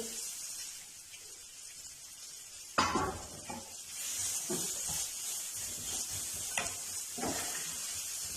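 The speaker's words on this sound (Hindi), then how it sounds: "प्याज को हमने सौते करना है, बहुत ज़्यादा फ्राई नहीं करना" Chopped onions for samosa filling sautéing in a pan, a soft steady sizzle that starts after a sudden clatter as they drop in, with occasional scraping stirs and light pan knocks.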